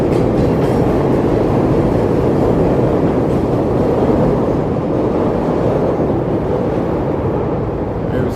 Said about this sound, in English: There's a train pulling out the station there